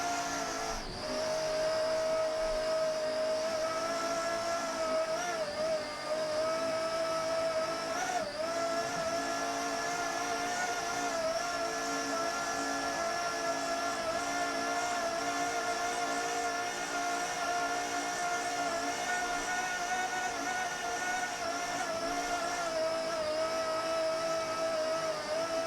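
A racing powerboat from Team JC Performance, leading at the 2007 Battle on the Bay, heard on board as a steady, loud engine roar with layered harmonics. It runs continuously over wind and water rush, with no talking.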